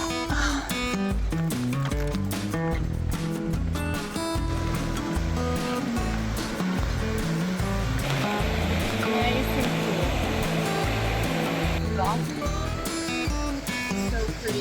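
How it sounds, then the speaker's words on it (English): Spring water flows steadily near an old hospital, a constant rushing wash with people's voices and movement mixed in close by. "We can hear water and people."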